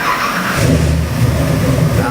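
A 572 cubic inch big block Chevy crate engine for a 1968 Camaro revs on a dyno, a loud, close throaty roar that rises sharply and holds at high revs with no talk.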